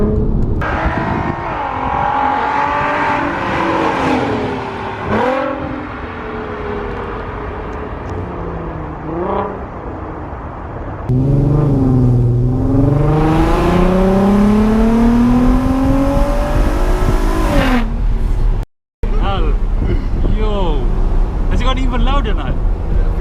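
A VW Golf R32 engine drops in pitch through quick downshifts with blips, then surges into a long loud acceleration, heard up close from inside the car.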